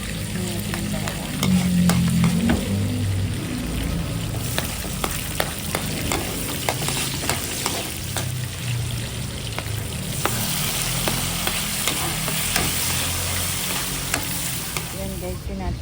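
Garlic, onion and beef sizzle and crackle steadily in a hot pan while being stir-fried, with intermittent scraping and stirring taps over a constant frying hiss, no talking.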